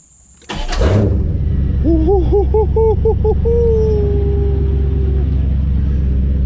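A C4 Corvette engine is cranked after a fuel pump replacement. A sharp click is followed by a short run of pulsing, warbling cranking tones, then a steadier tone over a continuous low rumble.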